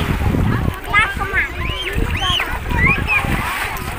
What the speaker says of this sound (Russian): Ой, ныряет она, Мари.